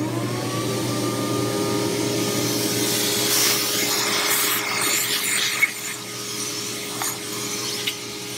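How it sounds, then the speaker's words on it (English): A vacuum cleaner hums steadily nearby, with rough rubbing and scraping as it sucks up drilling debris after pilot holes, plus a couple of sharp knocks toward the end. "Let me clean that up with a vacuum."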